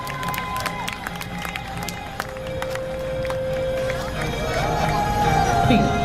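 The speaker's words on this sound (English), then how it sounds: "Let's make some noise for these jumpers" A crowd cheers and shouts outdoors at an air show for parachute jumpers, the noise swelling louder toward the end, with voices mixed into the din.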